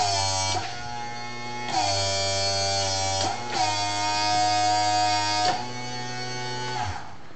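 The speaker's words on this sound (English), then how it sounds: "That's just because this is a tiny little low volume pump." A tiny low-volume electric hydraulic pump on a test platform whines steadily with a buzzing motor tone, its pitch dipping briefly several times as the load changes, close and with no voices.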